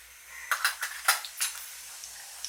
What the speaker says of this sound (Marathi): त्याच्यातच तेल घातलं आहे मी आता थोडंसं जिरं घालते